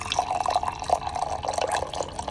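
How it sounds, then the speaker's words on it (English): Water pours and trickles as a looping sound effect in a live podcast recording, a faint, irregular stream of splashy drips and bubbling, close and alone without any talking. "And then I left the water pouring."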